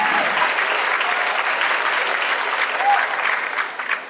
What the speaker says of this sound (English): Big round of applause for our percussion instructor, Mr. Zach Lewis